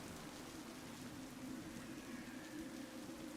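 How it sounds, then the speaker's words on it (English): Steady hiss of rain falling in the video game SMITE, part of a Norse storm effect during a Viking Invasion patch, a soft, even wash with no pauses and no voices. "There's the rain."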